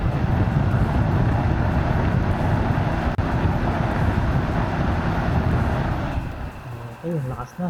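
A car radiator fan motor, its housing freshly cleaned, runs at full speed with a loud, steady broadband whir, the sound dropping away near the end.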